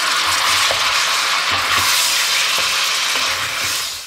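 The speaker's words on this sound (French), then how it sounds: "Une fois qu'on a bien fait saisir les morceaux de viande" Wild boar meat pieces searing with chopped shallot in a hot pan give a loud, continuous sizzle and hiss, with occasional soft scrapes from stirring.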